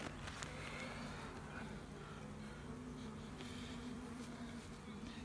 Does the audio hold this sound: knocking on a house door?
no